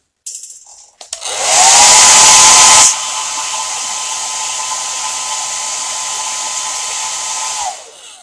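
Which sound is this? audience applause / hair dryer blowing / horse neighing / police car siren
hair dryer blowing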